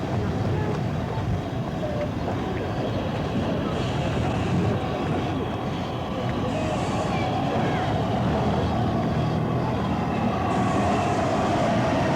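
Steam locomotives working at Snowdon in murky weather give a steady, dense mechanical rumble that runs unbroken throughout, with wind buffeting the microphone.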